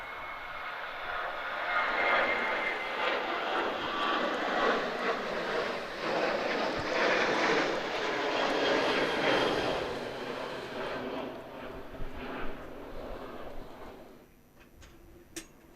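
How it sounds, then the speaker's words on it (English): A KLM Boeing 737 jet rolls down the runway and climbs away at Manchester Airport on a windy, rainy day, a loud, sustained broadband engine roar that holds steady before fading near the end. "KLM on the roll, 737. Already up in the air."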